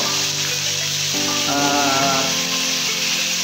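Boneless milkfish (bangus) fries in hot oil for sisig, a loud continuous sizzle and crackle close by with a tonal hum underneath.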